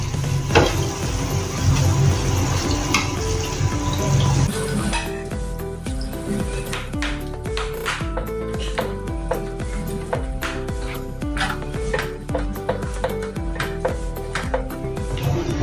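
A paste stirred into a hot pan while cooking mithai: loud sizzling at first, then steady scraping and clinking stir strokes against the pan, close and continuous with no voices.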